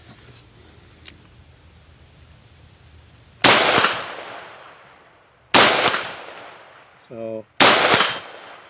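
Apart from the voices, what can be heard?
gunfire from Springfield Armory Hellion rifle, steel case ammo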